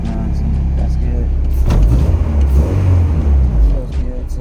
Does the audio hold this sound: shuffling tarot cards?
no